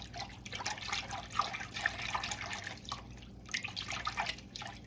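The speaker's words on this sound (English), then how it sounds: "if you just throw them in some water and shake them vigorously, the little thin skins usually come off very easily" Mung bean sprouts sloshed and shaken in a bowl of water to loosen their skins, giving a steady close-up run of splashing, dripping and trickling water with no voices.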